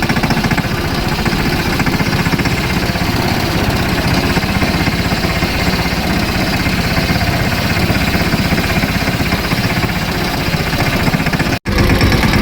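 A tractor engine runs steadily and loudly throughout, a continuous close rumbling drone with one brief dropout near the end.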